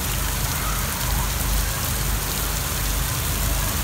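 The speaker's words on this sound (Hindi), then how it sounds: "बहुत तेज़ बारिश हो रही है" Heavy rain heard from beneath a shed, a dense, unbroken roar of drops drumming on surfaces, loud and constant throughout.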